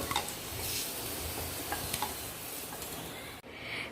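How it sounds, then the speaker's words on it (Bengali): Potatoes fry in a pan with a steady dense sizzle, oil crackling continuously at close range, with a few light ticks and stirring clinks and a brief dip near the end. "আলুটা দেখো এবার বেশ লাল লাল ভাজা হয়ে গেছে।"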